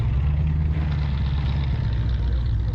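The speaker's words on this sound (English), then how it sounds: "Triumph TR8 V8." A Triumph TR8 V8 idles at a car show in Scotland, a loud, close, steady low rumble that holds evenly with no revving throughout.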